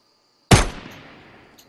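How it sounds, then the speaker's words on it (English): A purple SMG fires in the video game Fortnite: one sharp, loud shot bursts out after a short silence and rings off in a decaying tail, followed by a faint click. "Purple SMG. You know what, we can test it out right now."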